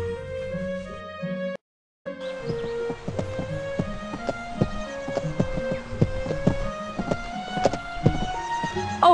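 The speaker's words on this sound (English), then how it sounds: "I just love horses, don't you?" Steady clip-clopping of horse hooves from the 2003 Disney Princess Royal Horse Show game, a repeated sharp hoof rhythm over light background music after a brief silent gap, with no talking.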